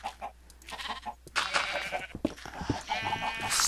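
Minecraft sheep bleat twice in a game scene, the bleats fairly close and clear against faint background game noise, with no talking over them.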